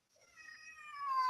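A cat meows once, a single rising-then-falling drawn-out call that grows louder toward the end, close and alone against a quiet background.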